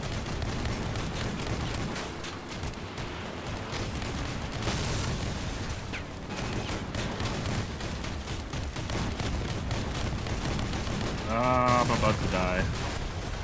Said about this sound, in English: those that kaiju hit and that missile hit really messed me up